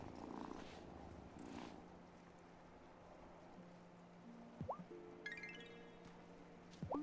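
A cat purrs softly and steadily inside a cozy video game, low and continuous, with a few short chirpy game sounds near the end.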